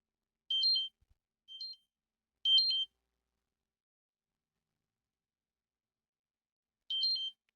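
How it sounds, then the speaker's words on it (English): Short electronic beeps go off near a cryptocurrency mining computer setup: three quick bursts in the first few seconds, then silence, then a fourth beep, each a clean high chirp against total quiet. "I have no clue what's beeping"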